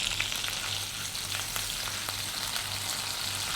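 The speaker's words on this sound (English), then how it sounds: "I'm going to lightly sweat the spices in the oil." Whole cumin, cassia, bay leaf and cloves frying gently in oil for a one-pot chicken and tomato rice, a steady soft sizzle throughout with a low hum beneath, close and even, with no talking.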